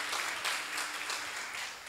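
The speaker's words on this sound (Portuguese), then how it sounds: "Dê uma salva de palmas para o Senhor." A church congregation applauds during a sermon, a steady wash of clapping from many hands that holds at an even level throughout.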